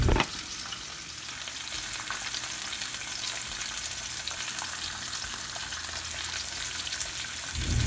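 Steady sizzling of salmon frying in a hot pan, a continuous crackle heard close up, with no voices.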